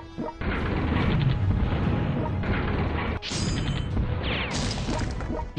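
Heavy air strike explosions pound an emplacement in a World War II video game set during Operation Market Garden, several loud, close crashing blasts with debris and metallic clatter following one after another, no talk.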